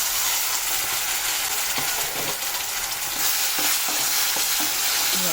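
Ground masala paste sautéing in oil for restaurant-style palak paneer, with a steady close sizzle and scattered scraping stir strokes throughout, no voices.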